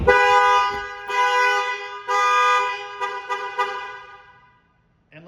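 A C6 Corvette alarm goes off after the rear keyhole is turned with a key: loud, close horn blasts honking in a rapid uneven series, then fading away to silence.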